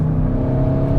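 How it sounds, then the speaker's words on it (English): A 2021 Audi RS6 Avant under full throttle on canyon roads, a loud, steady, deep exhaust drone with strong low harmonics, heard close and unbroken for about a second. "Like the noise of that exhaust when you're on full throttle, for sure."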